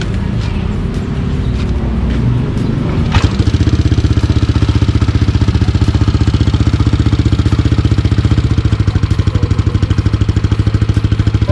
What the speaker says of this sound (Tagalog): Nga, paandarin nyo are. Sound check lang natin ano yung NMAX na are.